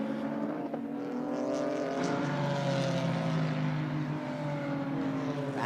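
GT4 race cars in a class-mixed battle at Sonoma Raceway drone past with loud, sustained engine notes, the pitch sliding as they close in and pull away.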